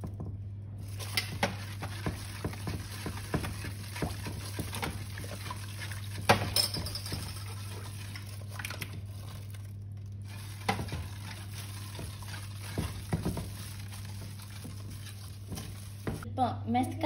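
A spoon scrapes and stirs in a pot as one litre of milk warms on a low stove burner, making soft, irregular clinks and swishes over a constant low hum, with brief quiet gaps.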